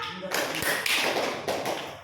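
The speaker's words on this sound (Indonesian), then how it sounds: "Tepuk tangan dulu untuk kelompok 2." Classroom students applauding group 2 after a presentation produce a short burst of dense, close clapping lasting about two seconds, with voices mixed in.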